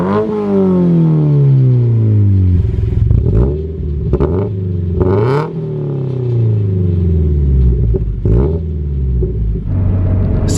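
A Subaru BRZ/Scion FRS/Toyota GT86 boxer engine with a catted header pulls hard in second gear from 2,500 rpm, a loud rising roar cut by quick shifts and renewed revving, close and without talk.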